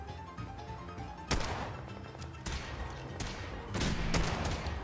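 Gunfire in Fallout 4 during a fight with a Deathclaw: repeated loud shots and bursts in close succession, with heavier blasts around the middle and near the end over a busy game soundscape.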